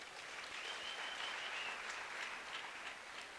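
A university graduation ceremony audience claps in a continuous, even wash of many hands, moderately distant and fairly quiet, with no talk over it.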